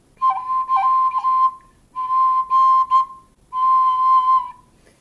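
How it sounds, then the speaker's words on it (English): Tin whistle playing C natural with tap ornaments, three sustained phrases with quick pitch flicks at note starts, clear, close and solo. "You can even do it on a C natural, which is 2 fingers down on the whistle."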